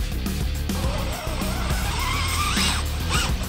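A Losi DBXL-E 2.0 electric RC car drives nearby, its motor whining and rising in pitch as it speeds up, with tires scrabbling over the ground.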